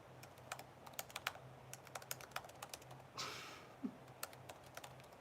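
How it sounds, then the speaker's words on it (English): Faint, quick clicking of keys on a computer keyboard, typed in short irregular runs with a brief rustle partway through. "Can you guys hear me typing?"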